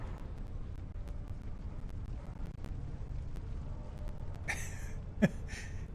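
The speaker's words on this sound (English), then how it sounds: "Now, get to a safe distance and detonate them." Demolition charges detonating in Star Trek Online during the Klingon Civil War content: a steady low rumble broken near the end by a few short, sharp blasts, fairly distant and moderate in level.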